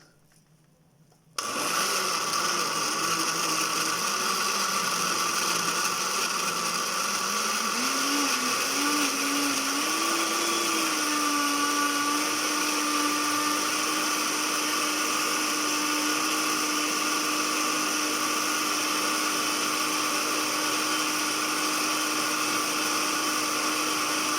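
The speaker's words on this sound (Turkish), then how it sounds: "Şimdi bunların hepsini blenderımdan çekiyorum." Blender whirring continuously as it blends milk with smoothie ingredients, starting abruptly after a brief quiet moment, then running loud and steady with its motor pitch rising slightly as the mixture smooths; no talking.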